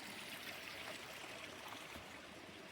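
Creek water flowing beside the North Umpqua Trail, a steady soft trickling and babbling stream close by, continuous and fairly quiet with no talking.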